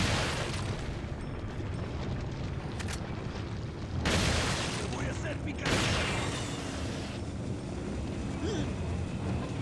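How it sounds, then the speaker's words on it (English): Dynamite blasts in Resident Evil 4 go off underground, with loud broadband booms at intervals over a dense, noisy game soundscape that runs throughout. "Oh god, dynamite, guys."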